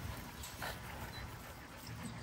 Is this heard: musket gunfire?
no